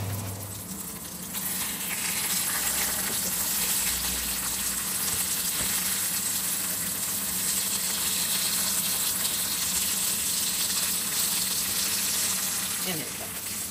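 Food frying in a pan during home cooking of ground meat with potatoes and carrots: a steady, dense sizzle that continues throughout with a faint voice now and then.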